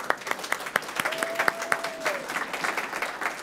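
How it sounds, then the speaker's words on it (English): An audience at a kids comics awards ceremony claps in a burst of scattered, uneven applause that thins out toward the end, with a faint voice briefly beneath it. "So claps for you guys."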